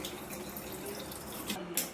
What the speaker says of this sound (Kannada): ಒಂದು ಗ್ಲಾಸ್ ನೀರು ಹಾಕೊಂಡು ಬಿಡೋಣ